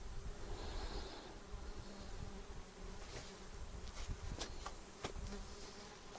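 Flies buzzing around outdoors on a farm, a continuous droning hum close by with occasional louder passes near the listener, with no voices.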